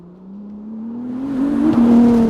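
A performance car engine with a dual-clutch gearbox accelerates hard, its tone climbing steadily and growing louder as it winds out, with a quick shift near the end.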